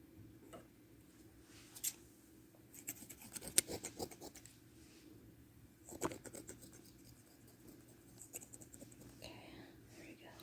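Quiet, close scissors snip hair into bangs in an at-home salon setting, with scattered crisp cuts, a few sharper snips and faint soft whispering in the background.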